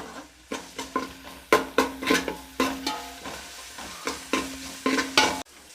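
Green chillies are sautéed in a pan for bone soup, with a soft sizzle under a run of rhythmic spoon scrapes and clinks against the pan, close and fairly loud, with no talking.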